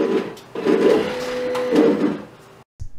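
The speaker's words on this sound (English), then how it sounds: "When I do that, the motors on the machine should move." A CNC machine's Y-axis stepper motor runs in short bursts of whirring, buzzing drive tone, moving, pausing and moving again, close and steady, before cutting out abruptly near the end.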